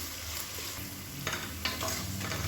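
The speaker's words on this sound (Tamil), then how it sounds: "இப்போ உருளைக்கிழங்கு நல்லா வதங்கிடுச்சு." Potatoes sauté in a pan, a continuous loud sizzle with scraping stirs of a spatula partway through, close and without voices.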